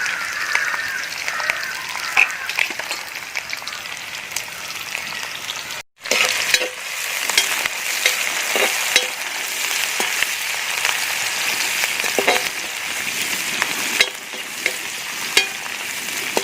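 Ginger, garlic and green chilli sizzle steadily in a hot pan for a Kuttanad-style duck mappas, a dense continuous frying hiss that breaks off for a moment midway, with no talking.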